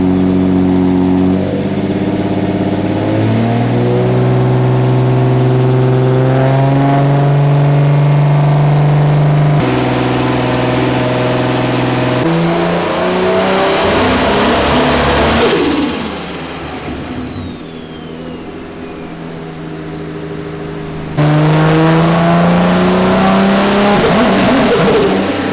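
A car engine on a dyno, loud and close, holds idle and then revs in rising sweeps with shifts in pitch, a brief quieter dip and a squealing whine, and then climbs again.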